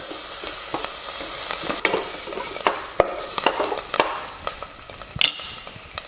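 Queso dip ingredients, including chopped garlic, frying in a pan. A steady sizzle runs throughout, with sharp clicks and scrapes from stirring scattered over it and no talking.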